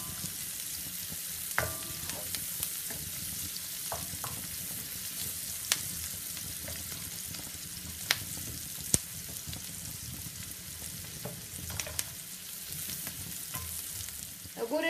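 Onion and garlic frying in a pan with a steady, hissing sizzle, punctuated by occasional utensil clicks and scrapes of stirring, close up with no talking.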